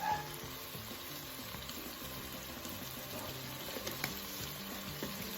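Garlic and thyme sautéing in a pan for chicken and dumplings, a faint, steady sizzle and crackle with soft scattered pops, no voices.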